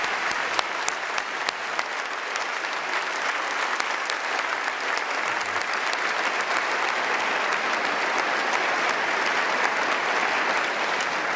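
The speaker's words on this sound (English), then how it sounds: "ladies and gentlemen, a round of applause for our debaters" A debate audience applauding after a political debate, dense sustained clapping from a large crowd, steady and loud for the whole stretch.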